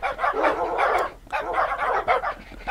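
A pack of dogs barks and yips in dense, overlapping bursts while attacking in the Minecraft video game, loud and continuous with brief gaps between flurries.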